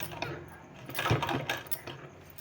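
A sewing machine runs briefly while stitching a folded fabric edge on a blouse sleeve or neck design, a short mechanical burst of rapid clicking that rises in the middle and fades, with no talking.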